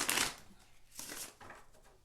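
Tarot cards riffle and flutter in a few quick, soft bursts, close by, with brief pauses between shuffles.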